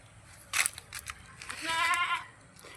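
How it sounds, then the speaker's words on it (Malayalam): A large goat, around 50 kg, gives one wavering bleat in a livestock sale setting, preceded by a few faint clicks and low background noise. "നല്ല വലിയൊരാട്"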